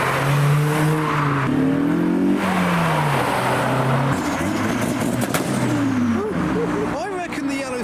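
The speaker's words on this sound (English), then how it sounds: "cars are definitely starting up to warm the engines, getting ready to leave the show" Several cars at a car meet start up and rev as they prepare to leave the show, engines droning and rising in pitch up close, with a few sharper revs near the end and voices talking over them.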